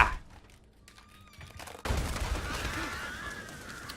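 Gunfire rings out in the Alan Wake video game, a sudden loud barrage that bursts in partway through after quieter sounds and keeps rattling steadily to the end.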